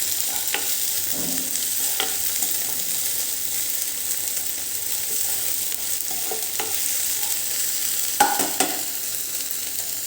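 Onions fry in a pan with ginger, chili and garlic paste while being stirred, making a continuous low sizzle with periodic scraping strokes of the spoon.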